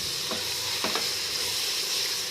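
Gajar ka halwa, carrot pudding made with ground cardamom and sugar, frying and being stirred in a pot, giving a steady close sizzle with a few soft scraping strokes and no talk.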